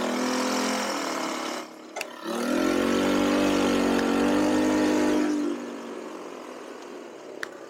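A homemade 300-dollar dune buggy engine roars loud and close, dipping briefly near two seconds then surging into a sustained high revving drive before easing off toward the end.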